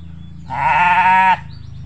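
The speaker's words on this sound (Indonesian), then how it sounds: "Jadi kambingnya ini teman-teman bisa lihat, ini jenis Jawa Randu, peranakan dari Etawa." A Jawa Randu goat, an Etawa crossbreed showing signs of pneumonia, gives one close, loud, drawn-out bleat lasting just under a second over a low steady background hum.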